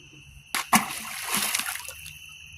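A turtle dives into water with a sharp splash, followed by a longer sloshing spray that fades out over about a second; close and fairly clear.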